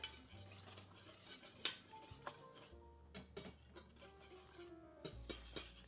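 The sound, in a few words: whisking ingredients together in bowl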